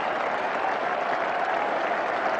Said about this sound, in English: A standing ovation and applause from everyone on the field in the Australian side.